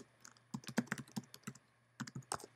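Fingers type a quick, irregular run of soft keystrokes on a computer keyboard in a quiet room, with a short pause midway before another brief flurry of clicks.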